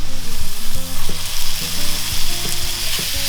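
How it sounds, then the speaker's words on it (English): Onion and meat sizzling and frying in a hot pan, a loud, close crackle with occasional stirring scrapes and no voices. "And this will go into the frying pan as well."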